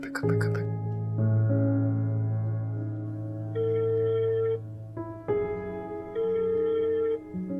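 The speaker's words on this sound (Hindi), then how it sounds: "ज़ारा फ़ोन तो उठा लो या कोई मैसेज कर दो, कॉल बैक कर लो" A mobile phone rings unanswered, playing a loud, sustained melodic ringtone whose tones change pitch in a repeating pattern with brief breaks between phrases.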